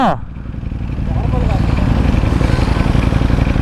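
Car engine revved at full power in sports mode, a loud steady droning roar that builds and holds, heard up close with people's voices over it.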